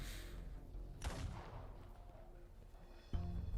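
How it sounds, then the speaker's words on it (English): A gunshot rings out in the Arknights video game, a single sharp blast with a rolling echo that fades, followed moments later by a second heavy thump. "A gunshot?"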